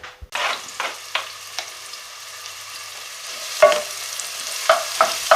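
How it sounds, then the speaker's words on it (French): Garlic, onions, a bay leaf and thyme sizzle and fry in a saucepan with a steady crackle, while a utensil stirs and scrapes in intermittent strokes close by. "J'ai mis mon ail, les oignons, ma feuille de laurier et le thym à chauffer dans la casserole"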